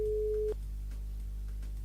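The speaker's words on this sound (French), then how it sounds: "Il y a une sonnerie" A steady telephone ring tone sounds for about half a second, then cuts off, leaving a low background hum.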